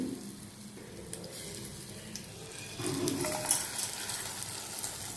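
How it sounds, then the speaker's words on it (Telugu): Tempering seeds dropped into hot oil for bansi ravva pulihora, a soft crackling sizzle that swells after a few seconds and keeps hissing steadily at close range, with no talking. "తాలింపు గింజలు అనేది ఇలా వేసుకోవాలి."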